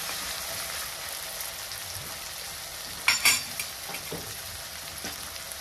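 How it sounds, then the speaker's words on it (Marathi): Tomatoes stirred and fried in oil in a pan while making misal pav, a steady close sizzle with a few sharper scraping clinks of the spoon around the middle. "टमाटर टाकल्यानंतर आपल्याला 1-2 मिनिटं हलवायचं म्हणजे टमाटर बारीक होते, शिजलं जाते."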